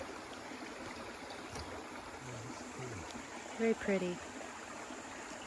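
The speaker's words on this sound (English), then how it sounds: "Coming up to this really cute little bridge and some flowing water." Steady soft rush of a creek flowing beneath a small wooden trail bridge in a wildlife management area, a faint continuous wash with a brief spoken comment over it.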